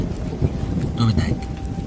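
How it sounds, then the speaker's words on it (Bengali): Night rain in a rural Bengali village past eleven o'clock, a steady dense hiss of downpour with faint low rumbling underneath, continuous and enveloping. "এগারোটা বেজে গেল কিন্তু বৃষ্টি ছাড়ল না"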